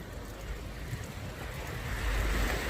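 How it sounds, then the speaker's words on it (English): Waves breaking against the rocks of the Chicago lakefront make a steady, broadband rush that swells louder toward the end, with wind buffeting the microphone throughout. "These waves are crashing up against these rocks here."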